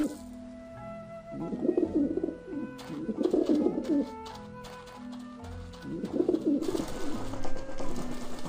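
Pigeons in the video game Grim Fandango give three rounds of low, bubbling coos, each lasting about a second, close and fairly loud over a steady ambient game backdrop.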